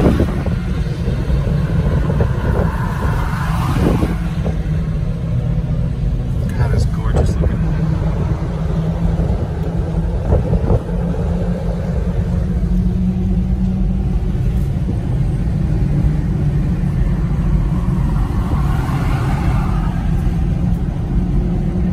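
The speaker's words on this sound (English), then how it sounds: "Driving a Jeep across the bridge?" A Jeep drives across a bridge. A continuous engine and road rumble carries through, with wind buffeting on the microphone and people talking over it.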